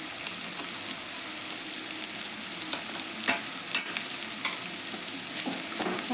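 Curry ingredients sizzle steadily in a hot pan while a spoon stirs through them, giving a constant close hiss broken by a few scraping clicks.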